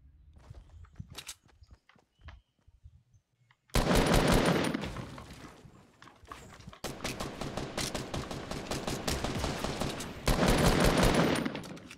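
Fortnite Battle Royale gunfire, a few sparse shots and footsteps at first, then loud sustained rapid automatic fire and repeated volleys close by.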